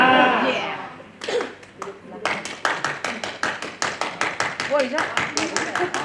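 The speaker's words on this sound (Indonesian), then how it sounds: "Sekarang ada lagi tepukannya gini nih." A group claps a rhythmic pattern together during a scout-style exercise: sharp, evenly spaced claps repeat steadily after a few opening voices, fairly close and loud in a room.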